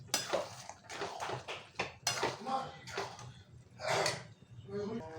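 Dal being stirred in a cooking pot with spices like cumin, coriander, chilli powder and garam masala, a ladle scraping and clinking against the metal in repeated bursts, fairly close and alone.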